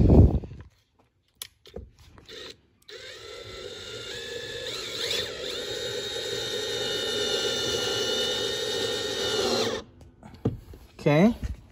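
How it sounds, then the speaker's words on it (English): A power drill drives self-tapping screws into a Ford Bronco rear door pocket, whirring steadily for several seconds at close range after a few short bursts and clicks. "hold it in place as you're using the self-tapping screws, and away you go"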